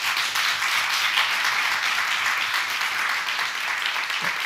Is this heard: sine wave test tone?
no